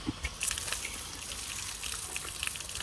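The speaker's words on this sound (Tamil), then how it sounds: "சரியான மழை பெய்யுது" Heavy rain pouring down on a trip to Mandaitivu, a dense, steady wash of falling water with scattered splashes and no talking.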